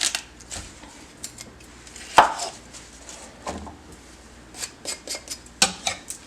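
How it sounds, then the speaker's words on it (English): A knife slices through an onion on a cutting board in a run of crisp, close taps, irregular at first and then quickening into a steady chopping rhythm near the end. "but we are slicing an onion"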